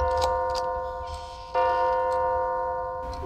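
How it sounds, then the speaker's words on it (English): A large grandfather clock indoors ticks steadily while a sustained, ringing chime-like tone hangs over the ticking, fairly close and with no speech. "A big clock. Grandfather clock."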